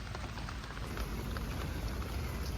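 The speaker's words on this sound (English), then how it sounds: "the storm that's coming through right now" Steady rain from a passing storm falls outdoors over a garden and backyard, a dense continuous hiss of drops on surfaces with no talk.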